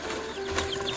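A short burst of chicken clucking, close and clear over a steady background hum.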